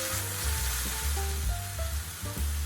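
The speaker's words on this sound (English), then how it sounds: "Saute until the meat changes color." Meat sautéing in a pan with sake, salt, pepper and sugar: a steady close sizzle with stirring, under a recurring low electrical buzz.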